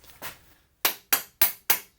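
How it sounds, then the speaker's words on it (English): A ball peen hammer drives registration pins into the aft housing of an Atomic 4 marine engine's reversing gear, giving a few soft taps and then four sharp, evenly spaced metallic strikes up close. "We can now drive our registration pins back in place. A ball peen hammer is all that's necessary here."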